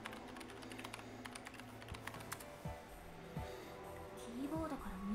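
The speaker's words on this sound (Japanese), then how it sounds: "キーボードから入力してる。" Rapid keyboard typing clatters as a burst of close clicks in SD Gundam Battle Alliance, then gives way to sparse taps as voices talk over it.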